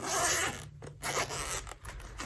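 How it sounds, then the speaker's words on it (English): A yellow zipper on an expandable travel sketch and watercolor kit case is drawn open in a close, continuous rasping pull with brief pauses, no voices. "if you unzip this yellow zipper, the whole thing pops out"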